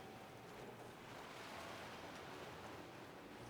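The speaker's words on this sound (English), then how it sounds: "I'm hearing waves. Like, not waves, but surf, if you know what I mean. I'm hearing surf." Ocean surf washing ashore in the video game Skyrim, a steady broadband roar of breaking waves with some wind rushing across the microphone, continuous and even throughout with no talk.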